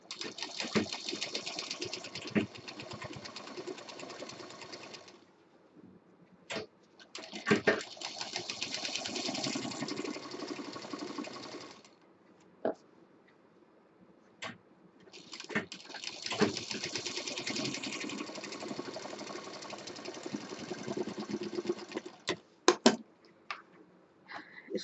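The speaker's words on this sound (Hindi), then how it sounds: "यहीं से ही इसमें हम डबल मशीन चला देंगे।" A sewing machine stitches fabric for a heart-shaped party bag in long steady whirring runs, broken by pauses and a few clicks as the cloth is repositioned, heard close and clear.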